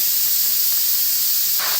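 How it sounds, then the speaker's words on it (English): Steam hisses steadily out of the release vent of a pressure cooker holding a pot roast with vegetables, a loud continuous airy rush that barely changes over its short span, with no talking. "what I'm going to do here is go ahead and release the remaining steam"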